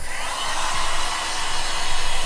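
A heat gun blows with a loud, steady rushing hiss and a slight pulsing flutter while warming vinyl wrap on a turbo Mustang.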